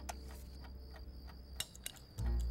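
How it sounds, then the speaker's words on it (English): A stopwatch ticks in a cartoon scene, giving quick, evenly spaced, fairly faint ticks. A brief low rumble rises at the very end. "A stopwatch to keep us on schedule."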